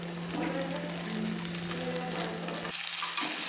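Tomato paste sautéing in oil for a spicy chicken curry, a dense, loud, crackling sizzle close by with steady hiss throughout and a slight change near the end, no voices.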